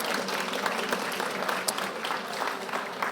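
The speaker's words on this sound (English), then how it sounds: "Thank you all for being here again." Audience applause at a centennial summit event, a steady wash of clapping from a crowd that holds evenly for a few seconds, with no voice standing out.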